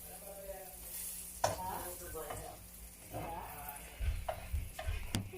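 Melted butter sizzles softly in a pan ahead of banana pancakes, a faint frying hiss broken by a few sharp clicks and stirring knocks.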